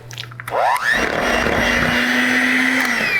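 A mixer whirs up to a loud, steady, high-pitched drone as it blends cheesecake filling with blueberry powder, holding constant for a few seconds after a short ramp-up, with no talking.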